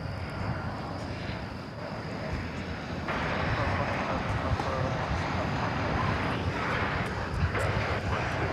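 A Boeing 737-800 jet from San Diego, California, at DFW Airport gives a steady jet engine rumble that grows louder and brighter partway through, with wind buffeting the microphone and people talking over it.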